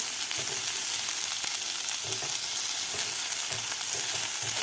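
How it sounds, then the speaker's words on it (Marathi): Vegetables for a veg Kolhapuri are stir-fried on a high flame, giving a steady loud sizzle with repeated rhythmic stirring scrapes and no talking. "मोठ्या गॅसवर आपल्याला हे भाज्या व्यवस्थित दोन मिनिट परतून घ्यायच्या आहेत"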